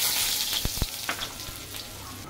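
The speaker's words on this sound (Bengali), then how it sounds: "তেলটা পেয়ে গেছে, পেঁয়াজ দিয়েছি," Onions fry in hot oil with a steady, bright hiss and crackle, close up, broken by a few sharp knocks of a utensil against the pan, with no talking.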